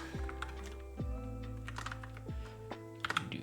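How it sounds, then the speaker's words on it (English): Arduino code being typed on a computer keyboard, with quick irregular clusters of close, crisp key clicks and occasional heavier thunks from the keystrokes. "let me just type it out again for digital write"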